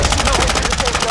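Rapid automatic gunfire in a video game, a fast, steady burst of evenly spaced shots that runs without pause and sounds loud and close.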